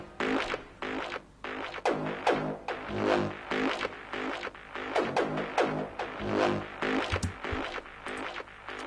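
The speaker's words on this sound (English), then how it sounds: "Next up, we've got some Synth Stabs, which I've chosen from the pack." Soloed psytrance synth stabs taken from a sample pack and processed with distortion, arriving as fast, rhythmic, gritty hits in a steady pulsing pattern at moderate level.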